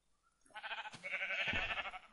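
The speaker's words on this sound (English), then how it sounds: "Go out of the way, sheep." A video-game sheep lets out a loud, wavering bleat lasting over a second, with a soft thump partway through, heard alone.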